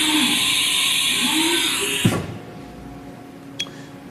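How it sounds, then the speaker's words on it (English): A 2012 Haas TM-1P CNC toolroom mill with a 10-tool, 40-taper spindle cycles a tool change: a steady mechanical whine cuts off abruptly, followed by a quieter hum and a brief clack. "where you're simulating a tool change right now."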